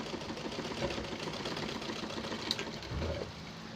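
A small sewing machine stitching steadily, its motor whirring and needle mechanism knocking in a fast continuous rhythm, close up with no talking.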